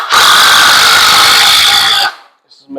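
A power drill drives a screw into 2x4 wood, one loud, close, steady whirring run of about two seconds that cuts off abruptly, followed by a brief voice.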